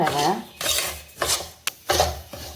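Semolina is stirred and roasted in a kadai, a spoon scraping against the metal pan in short rhythmic strokes with a sharp clink partway through, close and clear.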